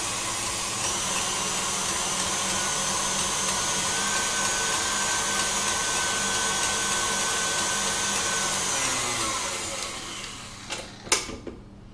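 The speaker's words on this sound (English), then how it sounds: "It won't take long to whisk up." An electric whisk whipping a small amount of fresh cream for cake decoration, a steady close whirring motor hum lasting about ten seconds before switching off, followed by a couple of brief knocks.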